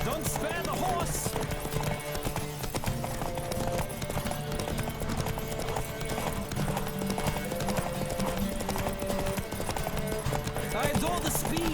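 Horse hooves galloping steadily in The Witcher 3 video game, a continuous drumming clip-clop with occasional whinnies, layered with game music while characters speak over the ride.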